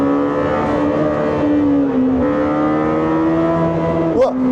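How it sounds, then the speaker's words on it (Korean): Lamborghini Temerario V8 engine held at steady high revs, a loud sustained harmonic drone that dips briefly and then climbs again, with a sharp rise and crackle near the end. "와, 테메라리오의 이 1000rpm 사운드,"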